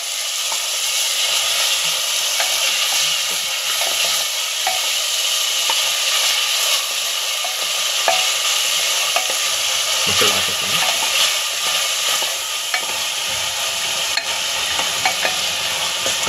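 Onion-garlic paste and ginger-garlic paste frying in a pan, stirred continuously with a steady loud sizzle and scraping strokes throughout, with no talk over it.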